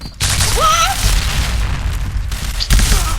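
A grenade blast in the shooter game PointBlank gives a loud, deep boom with a low rumble, alongside other game noises and whistling tones, all close and heavy.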